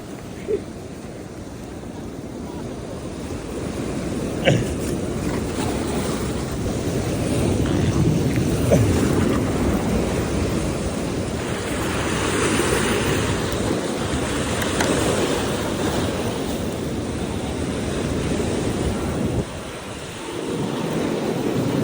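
Strong sea waves wash against a rocky shore during fishing, a steady, broad roar of surf with gusting wind noise across the microphone and a few louder surges.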